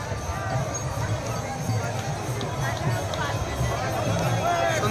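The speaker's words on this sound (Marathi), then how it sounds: "खूप गर्दी असते दर्शनासाठी" Large crowd of pilgrims at the Sant Tukaram Maharaj palkhi procession in Pandharpur, a steady, dense babble of many voices with footsteps and movement, continuous and close throughout.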